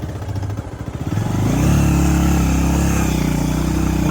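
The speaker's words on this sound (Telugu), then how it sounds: "బైక్ అయితే సతాయిస్తుంది" A troublesome motorcycle engine runs close by, rising through a rough rev into a loud, steady drone that holds to the end.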